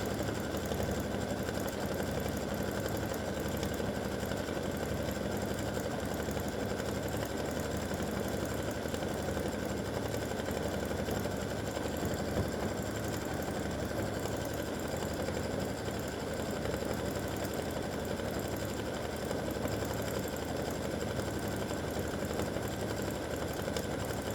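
An embroidery sewing machine stitches white lines in off-white thread on a tic tac toe football game board, producing a steady, rapid mechanical hum and needle chatter that stays even and continuous throughout, with no talking.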